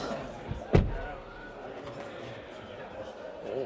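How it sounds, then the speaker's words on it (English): A single solid thump of a car door shutting near the start, followed by quiet car interior ambience with faint shuffling, inside a Cupra Tavascan. "we'll close the door."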